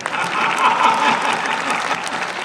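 Sustained audience applause at a Hindi comedy poetry gathering, steady and fairly loud clapping from a sizable crowd with a faint murmur beneath, holding evenly throughout.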